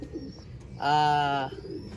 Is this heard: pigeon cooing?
yes